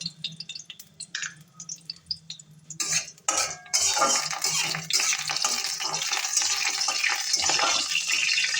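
Spoon stirring panch phoron tempering in rice bran oil in a metal pan, scraping and clinking close by with a steady sizzle, growing louder and denser after the first few seconds; no talking.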